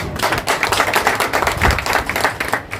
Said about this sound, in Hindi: एक बार आदरणीय आदित्य कोठारी जी के लिए जोरदार तालियां हो जाएं।